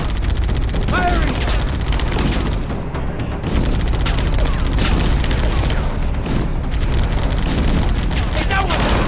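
Sustained gunfire and booming blasts in a Halo sci-fi shooter firefight against Covenant forces with a dropship inbound, dense and continuous throughout with voices calling out over the din.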